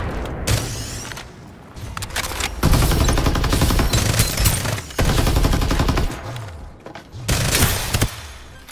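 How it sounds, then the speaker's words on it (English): Rapid gunfire bursts from a Farlight 84 battle royale match, loud sustained automatic fire with booming impacts, pausing briefly between several dense volleys. "Open fire!"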